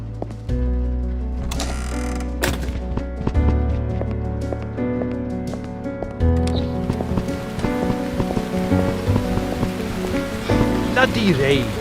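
Rain falls steadily in the video game Burnhouse Lane, a continuous patter under ticking mechanical sounds and low music, with faint brief voice moments.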